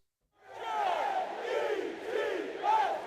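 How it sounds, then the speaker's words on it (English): A crowd cheers and whoops in a burst that rises quickly and holds for about three seconds, sounding like a canned cheering effect heard clearly on its own. "And a little round of applause."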